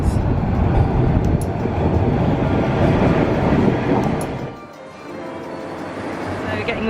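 A Toronto subway train pulls into the station with a loud, broad rumble and rush of air that drops away briefly, then builds again as the cars roll past nearby.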